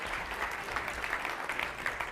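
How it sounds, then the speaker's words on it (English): Applause from an audience at a live bootcamp session, a steady dense wash of many hands clapping together at moderate volume, with no talk over it. "give them another big round of applause"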